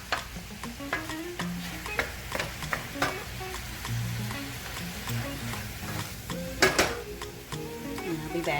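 Ground meat browns in a pan with a constant close sizzle, punctuated by repeated sharp utensil taps and scraping, plus scattered faint background tones.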